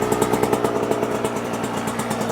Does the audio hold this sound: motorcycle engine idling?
yes